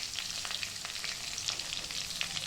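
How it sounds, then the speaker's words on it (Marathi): Crushed garlic frying in hot oil with mustard seeds for a varan tempering, a close, continuous crackling sizzle with small popping bursts, no talk. "आता टाकते लसण"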